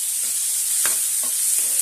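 Chopped tomato sautés in a pan for brinjal chutney, giving a steady, fairly loud hiss of frying broken by a few soft taps and scrapes of a spoon.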